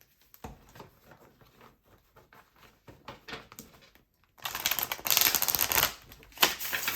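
Soft riffling and patter of cards being shuffled, quiet at first, then a louder burst of rapid shuffling in the second half.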